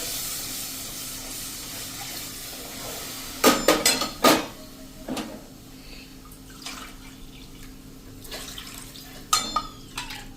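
About two cups of water poured into an onion and besan gravy simmering in a pan over a low-to-medium gas flame, heard as short splashy bursts with a few utensil clinks against a quiet kitchen background.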